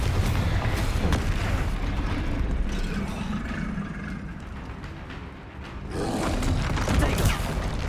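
Explosive spell blasts in Hogwarts Legacy crash out as loud, dense booms over continuous game combat noise, with a short lull before another heavy burst near the end.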